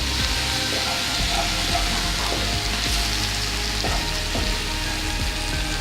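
Lamb and vegetable stew with mushrooms sizzling steadily in a hot pan, a dense even hiss and crackle with occasional soft stirring clunks throughout, no talking.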